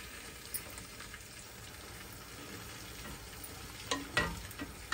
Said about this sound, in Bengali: টমেটোর পেস্টটা দিয়ে আমরা আবার আরেকটু ভালো করে কষায় নেব।